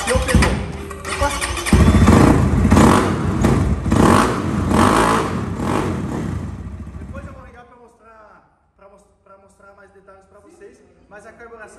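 An MXF 300Rxs motorcycle engine starts up and runs loudly for several seconds, then settles as it fades, with someone talking over the later part.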